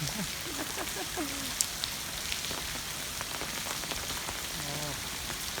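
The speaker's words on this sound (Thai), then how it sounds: "ไม่ไหวแล้วฝนตก" Rain patters steadily at a cave shrine in Khammouane, Laos, a soft continuous hiss of drops on surfaces with a few sharper taps, while people talk faintly in the background.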